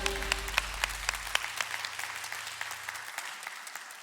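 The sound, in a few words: applause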